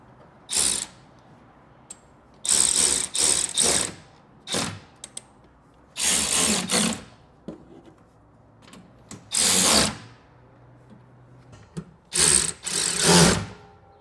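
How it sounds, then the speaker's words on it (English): Ratcheting wrench tightening nuts on the hardware of a bed rack on a 2005-or-later Toyota Tacoma truck, heard as several short bursts of clicking spread across the clip with quiet gaps between, close and fairly loud with no talking. "Ratcheting wrench is really nice for the ones that are close to you, and a shallow socket's probably best for the inside"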